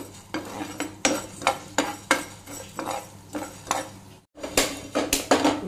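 Coriander seeds being fried in a pan for a spice mix, heard as a series of sharp metallic scrapes and clinks from a spatula against the pan, repeating at roughly one-second intervals with a brief pause near the end.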